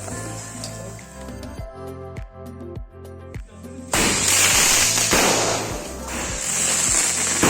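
Vishu festival firecrackers burst in a rapid string of sharp cracks, then a louder, dense crackling barrage takes over, loud and close.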